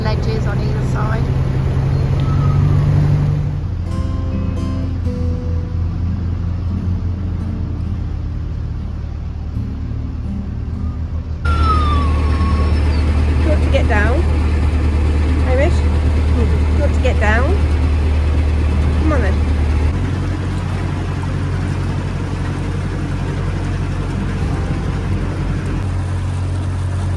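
Narrowboat diesel engine on the frozen Llangollen Canal in winter, labouring as the boat pushes against the flow, a steady loud low rumble with shifting load running throughout, with people talking over it.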